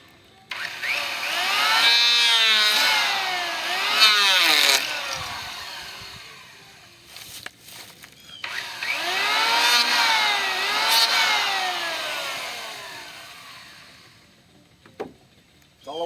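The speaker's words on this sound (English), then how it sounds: "Then my hand planer, and all I've got to do is just hit that a little bit." Electric hand planer shaving down a wooden joist, two loud sustained bursts of whining, rising and falling motor pitch as the blades cut, each lasting several seconds with a short pause between, ending in a quieter stretch.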